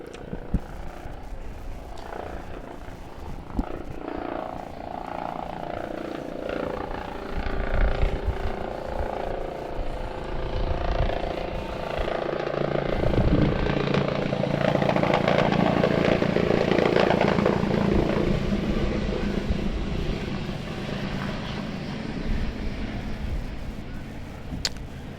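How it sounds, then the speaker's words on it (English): A medical helicopter heads in toward UMass Medical Center over a rowing regatta, its rotor and engine a steady broad drone that swells louder through the middle and stays continuous throughout. "looking at the helicopter coming in from nearby UMass Medical Center"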